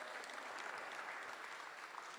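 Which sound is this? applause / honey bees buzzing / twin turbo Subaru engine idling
applause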